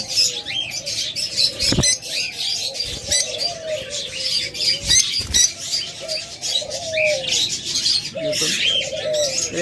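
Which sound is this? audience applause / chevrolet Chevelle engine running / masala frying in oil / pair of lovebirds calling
pair of lovebirds calling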